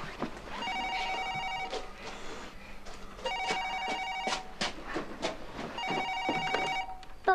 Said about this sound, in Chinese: 快点的，接电话去